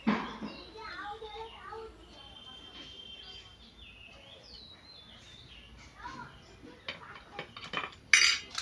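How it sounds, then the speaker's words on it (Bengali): Homemade potato chips seasoned with chili powder, black salt, mango powder and chaat masala clatter and rustle as they are tossed in a bowl, with crisp rattling bursts growing louder toward the end; birds chirp faintly in the background. "এইরকমই করে বেশ ভালো করে একটু ঘুরিয়ে মাখিয়ে নেবো আর এই দেখুন কেমন আওয়াজ হচ্ছে"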